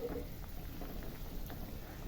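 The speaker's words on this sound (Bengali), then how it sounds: "ঝোলটা সুন্দর ফুটে গেছে" Curry gravy for a Bengali brinjal-and-pomfret fish dish simmering in a pan on the stove, a steady close bubbling hiss with faint pops running evenly throughout.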